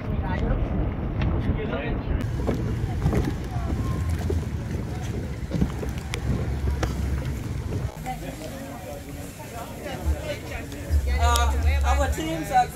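A boat engine runs steadily at sea near Koh Samui, a loud low rumble with wind buffeting the microphone, easing and then surging again toward the end.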